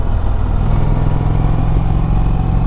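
Indian Chieftain Dark Horse motorcycle riding in third gear in sport mode on twisty roads, a loud, steady low engine drone with rumbling exhaust and wind, continuous and close throughout.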